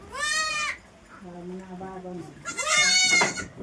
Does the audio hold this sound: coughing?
no